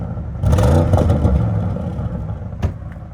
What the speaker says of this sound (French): il fait le zouave avec l'échappement libre